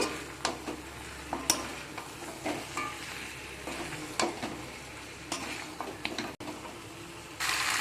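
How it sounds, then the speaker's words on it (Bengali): Fried chicken pieces being stirred with spices in a pan for beresta chicken, with steady close sizzling and repeated spatula scrapes and clacks against the metal. "চিকেনটাকে আমি এখানে ভালো করে মশলার সাথে মিশিয়ে নিয়েছি"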